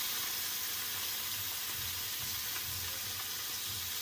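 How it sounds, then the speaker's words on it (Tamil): Fish frying in oil in a home kitchen pan, a soft, steady bubbling sizzle that runs evenly throughout at low volume, with no one speaking. "மீன் ஃப்ரை பண்ணி எடுத்துக்கலாம் ஃப்ரெண்ட்ஸ்."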